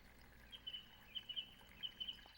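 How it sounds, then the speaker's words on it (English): Faint ambient birds chirp in a fairy-tale story game on the Wii, a few short high tweets scattered in quick pairs over a quiet background. "Oh, nice ambient bird sounds."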